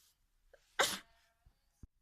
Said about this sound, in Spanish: Pues sí estornudé